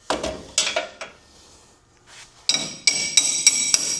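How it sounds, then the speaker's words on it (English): Sharp metallic hammer strikes ring out, a few scattered blows at first, then a brisk series of bright, clanging hits close by. "Hammer."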